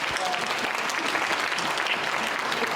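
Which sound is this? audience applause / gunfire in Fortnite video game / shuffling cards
audience applause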